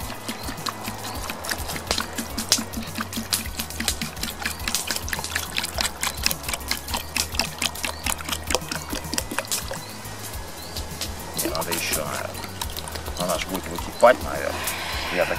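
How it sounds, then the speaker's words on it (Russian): Water poured into a pot holding venison soup ingredients on an outdoor campfire, an uneven glugging and splashing trickle that carries on steadily while someone talks. "Теперь это все заливаем водой."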